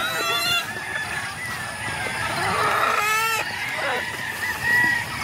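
Several chickens cluck and squawk together in a busy flock, with a higher honking call cutting in near the middle; steady bird chatter throughout, no talking.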